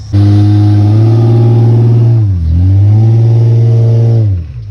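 A Honda Accord or GMC Sierra 2500 pickup holds a loud, sustained rev during a burnout. The engine drone dips briefly in pitch midway, climbs back, then drops away near the end, close up with no talking.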